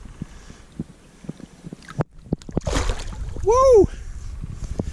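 A released bass splashes back into the water during a fishing trip, a short burst of splashing against outdoor background noise, with voices nearby.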